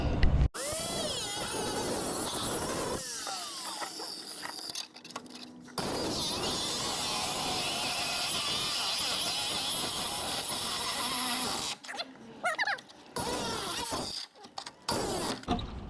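Sawzall reciprocating saw cutting on a Jeep, loud buzzing bursts broken by short pauses and clanks, close and harsh, with a few stops and restarts.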